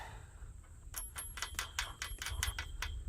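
A nut and washer are run onto a carriage bolt on a hoop house frame, giving a quick series of about ten crisp metallic ratchet-like clicks in an uneven rhythm, close by, over a low background hum.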